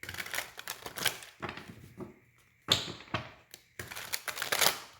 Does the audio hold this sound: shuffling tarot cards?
yes